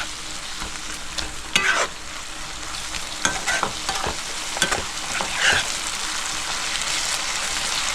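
Tomato is sautéed and stirred in oil over low gas for a pangas fish tel jhal curry, giving a continuous close sizzle broken by repeated scraping strokes of a spatula against the pan.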